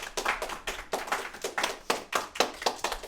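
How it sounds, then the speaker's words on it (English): A small audience claps in a loose, uneven rhythm at a live stand-up or talent show, each burst of hand claps close and distinct and rising and falling several times. "Round of applause."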